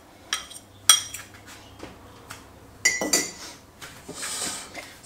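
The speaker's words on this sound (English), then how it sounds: "bash them down and just mix it around with a fork" Fork mixing eggs in a bowl, heard as a series of close, sharp metallic clinks and scrapes against the bowl in irregular bursts, with no voice.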